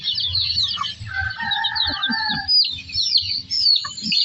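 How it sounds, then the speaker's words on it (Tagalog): Chickens cluck and chatter steadily up close, several birds overlapping, with a higher crowing-like call woven through. "Mga alaga namin mga manok yan."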